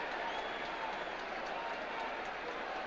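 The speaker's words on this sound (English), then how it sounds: "You could hear the crowd building." A football stadium crowd at an Oakland Raiders home game against the Miami Dolphins produces a steady, distant roar that holds at an even level for a few seconds.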